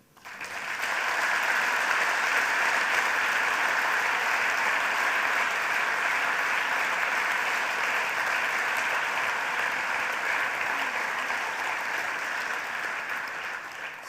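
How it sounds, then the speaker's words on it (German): A gala audience bursts into sustained applause for an emotional guest, the dense clapping swelling within a second and holding steady and full for over ten seconds before easing slightly at the end. "Applaus."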